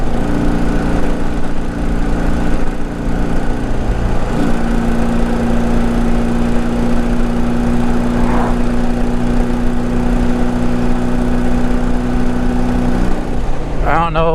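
A Honda Goldwing 1200 motorcycle engine runs after a carburetor adjustment, idling steadily with a constant low drone and a sustained tonal whine, close by, with a brief rattle near the end.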